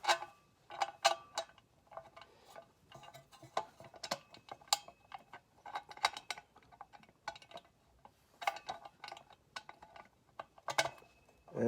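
Skid plate screws being hand-threaded on a Kawasaki KLX, heard as irregular clusters of small metallic ticks and clicks close up, with quiet gaps between bursts and no talking.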